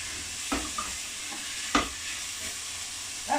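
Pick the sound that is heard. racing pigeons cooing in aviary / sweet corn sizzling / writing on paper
sweet corn sizzling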